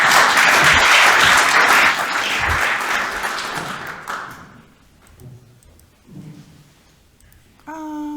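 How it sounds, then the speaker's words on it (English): Seminar audience applause at a 2023 maritime ITS event: loud, dense clapping for about four seconds that fades out, followed by quiet room noise, a few soft sounds, and a brief tonal chime at the end. "a warm applause for Thomas."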